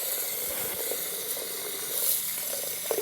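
Tap water runs steadily into a container in a home bathroom, a constant broadband rush with no voices.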